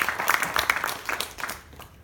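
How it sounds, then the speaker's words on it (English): A church congregation gives a short round of applause for the finance team, brisk overlapping claps that fade out within about two seconds. "can we just give another round of applause for the finance team?"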